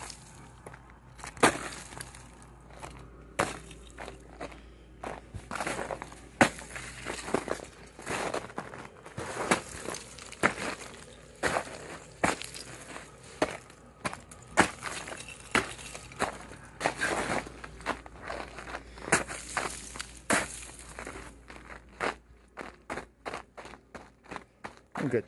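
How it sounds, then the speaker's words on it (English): Boots stomp on crunchy snow and ice, in irregular close crunching steps with crystalline cracks and breaking sounds, with a few short pauses and no talking. "this is probably just going to be me just stomping around on the ground for a few minutes."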